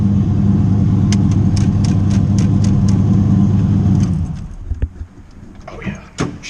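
LS-swapped turbocharged Buick Regal engine roaring at high revs, then dropping off abruptly, followed by a few sharp pops and clicks as it settles, loud and close.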